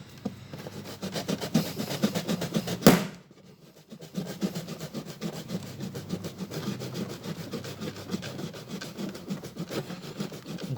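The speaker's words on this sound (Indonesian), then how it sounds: "Coba gue gosok semenit lagi ya." An object is rubbed briskly to build up static electricity, giving a continuous scratchy, rhythmic friction noise close by with a sharp knock near the start, then steady rubbing strokes with no talk.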